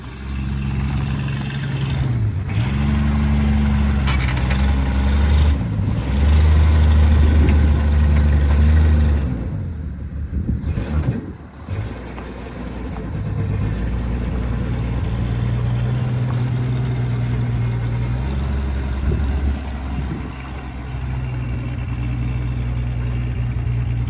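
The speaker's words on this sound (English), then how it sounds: "Dad's gonna get the engine bay again, lay in there and give it some gas while we try to move it up towards the house." A 1979 Volare wagon that sat four years in a junkyard runs outdoors while being given gas, a steady loud engine drone with rising and falling revs and a brief dip midway, no voices.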